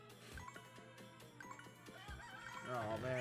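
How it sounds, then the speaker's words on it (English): Clucking chickens in the farming video game Friends of Mineral Town, repeated short clucks over busy game music and jingles, growing louder toward the end, with no talk over them. "Save the chickens!"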